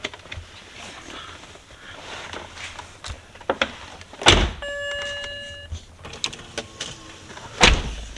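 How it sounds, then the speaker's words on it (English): BMW E9X power windows motor shut during window initialization after the car doors are closed, with a whirring run ending in firm thumps as each glass seats, interspersed with clicks and door-like knocks. "What we have to do quickly is close all the doors, then we're going to initialize the windows"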